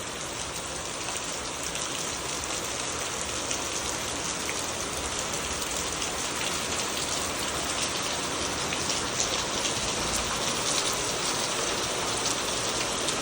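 Heavy summer rain pours down steadily in Mohol town, Maharashtra, a dense, unbroken hiss of drops on surfaces filling the whole scene at even loudness throughout.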